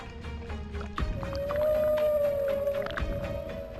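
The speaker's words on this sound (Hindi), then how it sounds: "शायद ये मादा व्हेल है जो बच्चे के साथ समुद्र के दूसरे हिस्से में जा रही है।" A female whale travelling with her calf at sea off Dwarka gives a long, tonal, rising and wavering call that holds steady for a couple of seconds over a rumbling wash of water and background noise.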